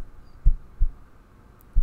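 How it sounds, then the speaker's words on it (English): Heartbeat sound effect from an indie video game: three deep, muffled thumps at a slow, uneven pace, close and low over a quiet hum, with no voices. "you can actually hear the heart beating"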